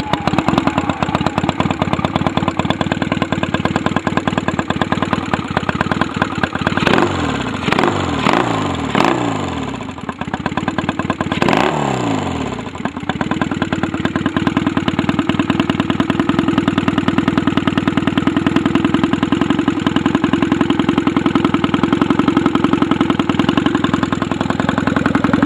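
Small engine on a Dingo machine runs steadily and loudly, with a brief stretch of sputtering and pitch swings midway as it catches and revs before settling back into a continuous idle, no talking.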